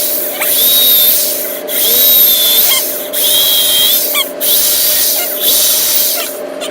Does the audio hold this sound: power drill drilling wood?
yes